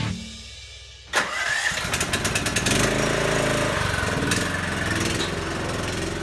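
A tractor engine cranks, catches after about a second and then runs loudly and close by with a steady, throbbing chug.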